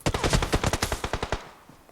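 A close, loud automatic burst of about fifteen rapid, evenly spaced shots in PUBG Mobile rattles off in under a second and a half, then stops abruptly into quiet.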